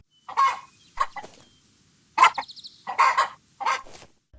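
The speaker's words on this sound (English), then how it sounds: "This sound effect was created using the samples of a real chicken, combined with the sound of clothes being flapped in front of a microphone" A chicken sound effect for the game Hytale, built from real chicken samples layered with clothes flapped in front of a microphone for rustling feathers: a handful of short, close clucks in separate bursts with silent gaps between.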